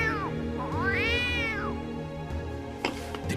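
An animated cartoon cat meows twice close up. A short call is followed by a longer, rising-then-falling meow, with faint background rustles afterward.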